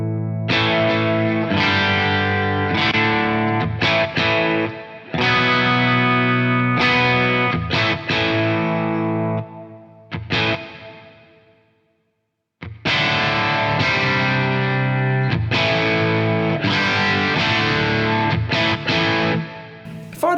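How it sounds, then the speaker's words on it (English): Electric guitar chords through an M-Vave Tank-G effects unit ring out with a lush, spacious reverb tail, playing continuously, with a brief pause where the sound decays before resuming. "Let's go back to a clean tone."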